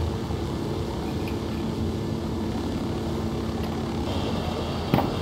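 Helicopter rotor drone in the video game Ghost Recon Wildlands, a steady, continuous low thrum that stays even throughout with a brief sharp sound near the end.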